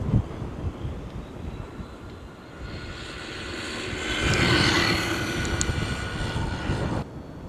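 A large brushless Nissan Skyline R32 GT-R radio-controlled car on a speed run into the wind, its motor whine rising and swelling as it passes nearby amid steady wind noise, then cutting off abruptly.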